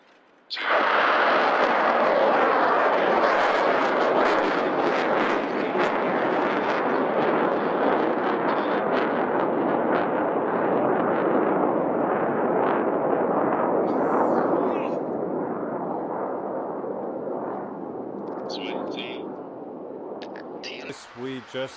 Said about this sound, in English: Just had a very successful launch of the Nucleus rocket.